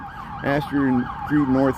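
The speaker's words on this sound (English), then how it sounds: "And here comes the police. We'll watch this police car going by here." A police car siren sweeps up and down in rising and falling wails as it passes along a Chicago street near Astor Street, loud and close over low traffic noise, with no talking.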